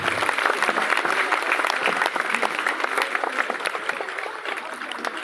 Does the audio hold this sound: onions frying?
no